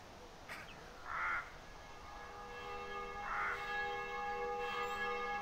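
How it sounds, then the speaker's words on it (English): Church bells ring in the game The Black Mirror: two clear, sustained tolls with long ringing overtones, set against a quiet background and a distant cawing crow. "You ring the bells."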